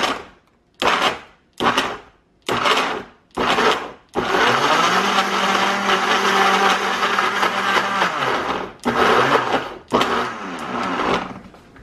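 A blender pulses a strawberry banana smoothie with vanilla plant-based protein powder: five short bursts, then one long continuous whir for about five seconds, followed by two more pulses, loud and close with no talking.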